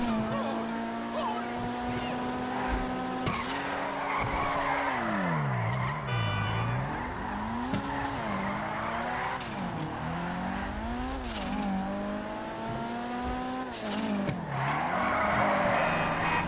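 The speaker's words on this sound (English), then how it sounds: "So I'll just shut up for a minute so you can hear the engine roar." A Karin Kuruma four-wheel-drive car in a video game roars continuously, its engine pitch climbing and dropping repeatedly through revs and gear shifts, loud and close with no talk over it.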